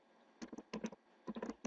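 Typing on a computer keyboard while entering data in MS Excel 2007, heard as three quick bursts of close, crisp key clicks separated by short pauses, with no talk.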